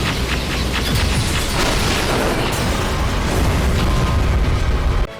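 Guided missiles fired from blades strike in a Skibidi Toilet animation battle, a dense, loud, continuous roar of blasts and crackling debris that cuts off abruptly at the end.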